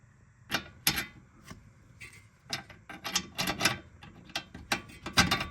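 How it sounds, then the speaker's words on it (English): A ratchet wrench tightens the top bolt of a Porsche 944 front coilover: sharp metallic clicks and clanks come close and in uneven bursts, with brief pauses between strokes. "So now we'll get the top bolt in and hopefully it'll all be good."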